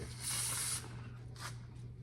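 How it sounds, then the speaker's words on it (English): A short hissing burst from a spray can of cleaner, then a second fainter spritz, close by, with a low electrical hum underneath, while cleaning a 1991 Polaris 440 Sport snowmobile. "Oh yeah, beautiful spray."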